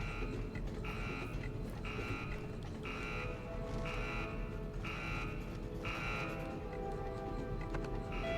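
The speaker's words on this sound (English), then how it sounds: "how can I escape from this beeping hell?" Repeated electronic beeping in the video game Resident Evil Village, a shrill tone pulsing in regular bursts about once a second over a dense, steady wash of in-game background noise.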